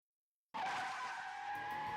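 A car skids with its tires squealing, bursting in suddenly after silence and holding as a loud, sustained screech.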